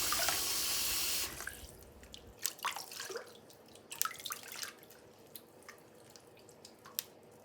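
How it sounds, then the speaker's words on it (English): Tap water runs over a hedgehog during a bath, a steady stream at first and then scattered drips and splashes that continue alone at close range. "you can quickly just run that water over their face"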